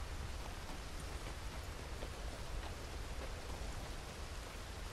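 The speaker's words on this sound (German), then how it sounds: "Es fängt jetzt ganz leicht an zu regnen." Light morning rain falls as a soft, even hiss of drops on the ground, steady and quiet for the whole stretch, with no voices.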